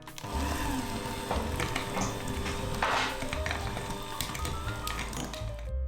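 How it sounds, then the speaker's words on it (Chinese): Biscuit dough being stirred with 135 g of softened butter and sugar for salted egg yolk cookies, giving a steady close squishing, scraping mix with occasional bowl clinks and no speech. "同样是搅拌了有2分钟左右吧，把材料搅拌均匀"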